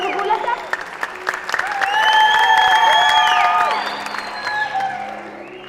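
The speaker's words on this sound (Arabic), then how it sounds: "انا قاهرني انه الرجال يصفقوا بدل ما يصفق الا النسوان" A theatre audience at a comedy play bursts into loud applause that builds and holds, mixed with cheers and whoops, while voices carry over the crowd.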